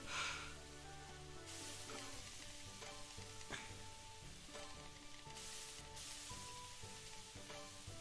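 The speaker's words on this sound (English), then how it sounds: "I'm frying onions like a champ, though." Onions sizzle in a pan in the cooking game Today's Menu for the Emiya Family, a steady close frying hiss with stirring scrapes, overlaid with game music notes throughout.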